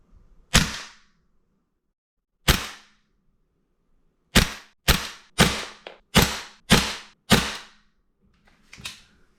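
Stock Tokyo Marui magazine feeding an MWS gas blowback airsoft rifle: eight sharp, loud single shots fired at irregular intervals, each a crisp crack with a short tail, with no talking.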